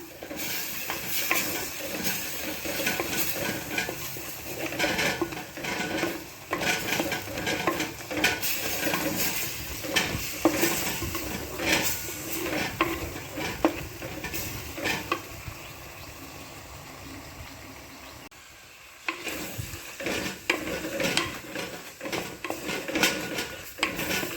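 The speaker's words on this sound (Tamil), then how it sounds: "ரெட் சில்லி பவுடர் இதை போட்டு நல்லா மிக்ஸ் பண்ணுங்கள் நல்லா ஃப்ரை பண்ணுங்கள்" Red chilli masala stirred and fried in a pan for quail (kaadai) gravy: constant sizzling with dense scraping and clattering of a spoon against the pan, close by, easing briefly near the end before resuming.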